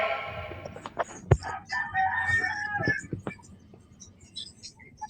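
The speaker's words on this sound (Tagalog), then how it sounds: "Kaya nabati namang taok sa manok." A rooster crows loudly and close by in a long cock-a-doodle-doo, with clucks and other fowl calls around it and faint talk in the background.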